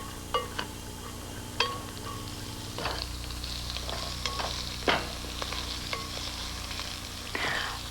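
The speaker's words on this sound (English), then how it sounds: "these vegetables get sautéed together till they're slightly browned." Diced onion, celery and carrots sautéing in a pan until lightly browned, a soft steady sizzle with occasional clinks and scrapes of a stirring utensil, fairly close.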